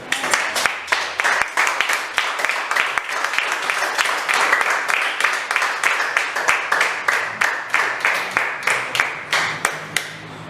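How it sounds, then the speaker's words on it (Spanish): A congregation at a church service claps in steady unison, a loud rhythmic beat of roughly three claps per second that carries on for about ten seconds with faint voices underneath. "¿Quién le da un aplauso al Señor?"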